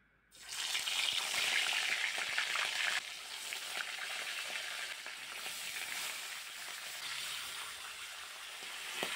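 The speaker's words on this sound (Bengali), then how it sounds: "এখন আমি একটা একটা করে মাছের পিস তেলের মধ্যে ছাড়বো।" Rohu fish belly pieces sizzle loudly in hot mustard oil in a kadai, a dense crackling fry that jumps up as the pieces go in, then settles into a steady, slightly softer sizzle.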